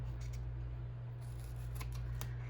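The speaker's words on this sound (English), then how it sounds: "Now I'm going to cut the corner again." Scissors cut a corner while making a garbage bowl, giving faint close snips and crisp blade clicks over a steady low hum, ending in a louder snap.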